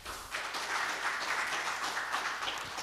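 Audience applause at an international marine technology conference award moment, a soft, steady wash of clapping held at a distance and sustained throughout.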